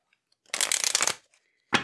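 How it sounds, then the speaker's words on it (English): Lenormand cards are shuffled in a quick riffling burst lasting about half a second, followed after a pause by a second short flick, close and crisp against silence. "we'll shuffle Lenormand first"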